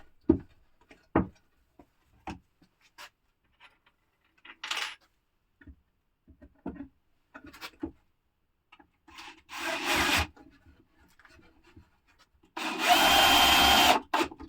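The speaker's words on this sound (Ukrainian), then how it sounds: "я кручу два шурупа, кручу верхній і нижній шуруп" Screws being driven into wooden beehive boards, heard as bursts of drill whirring between scattered knocks and handling clicks, close and fairly loud, with no speech.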